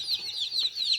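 Rhode Island chickens on a small poultry farm give a quick run of soft, high clucks, close by and alone.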